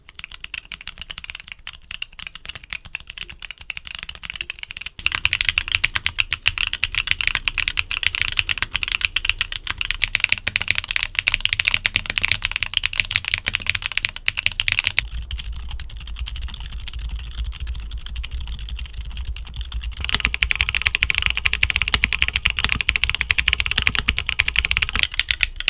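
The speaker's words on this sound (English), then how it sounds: "Now, here are back-to-back sound tests of all the switches we talked about today." Several tactile mechanical keyboard switches typed on back to back, continuous fast keystroke clatter in distinct segments that shift in loudness and tone every few seconds, close up and free of talking.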